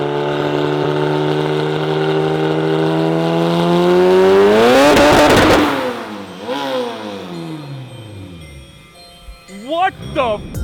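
A one-off Lotus engine making around 750 horsepower on a dyno power run, climbing in a loud rising rev to a roaring peak, then cutting off and burbling down, with short blips and voices near the end.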